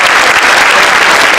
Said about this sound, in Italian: Ci piacerebbe capire con un vostro applauso se lo spettacolo della bellezza, di fede e tradizione che Nuoro offre in questa giornata è di vostro gradimento